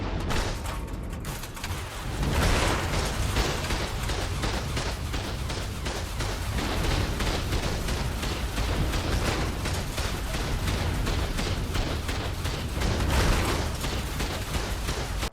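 Rockets fired as torpedoes from a Shastasaurus in ARK: Survival Ascended, a loud continuous barrage of booming blasts and rumbling detonations lasting many seconds with a steady pulsing rhythm.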